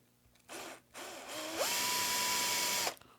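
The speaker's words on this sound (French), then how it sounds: "je vais simplement juste donner un petit coup de perceuse ici" A power drill bores a hole while a camera filter wheel is being fitted: two short whirring bursts, then one longer sustained run with a steady pitched whine, close and loud, with no talking.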